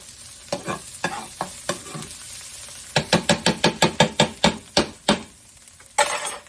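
Garlic fries in a pan with spinach, a low sizzle punctuated by a quick run of sharp, rhythmic utensil taps and scrapes, close and fairly loud.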